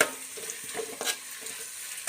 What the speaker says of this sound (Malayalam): ഈ സവാള നന്നായി വഴറ്റുക